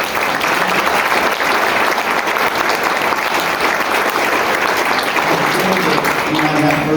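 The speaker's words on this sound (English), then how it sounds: "Let's give them an applause." Steady, loud clapping from an audience at a chamber of commerce candidate forum at Austin College, sustained without break throughout, with a faint murmur of voices mixed in.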